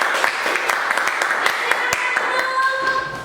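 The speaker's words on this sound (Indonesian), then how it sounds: "beri tepuk tangan" Brief burst of clapping from students in an Indonesian classroom after a group presentation, scattered claps over a few seconds with a sustained tone or voice rising near the end.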